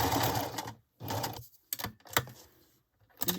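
A home sewing machine stitches scrap fabric for handmade Christmas cards, running in several short bursts separated by brief pauses, close and clear.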